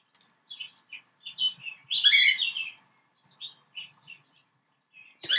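Birds sing outdoors in a quiet setting: a string of clear, high chirps and short warbled phrases, with one louder, busier burst in the middle, then scattered calls afterward.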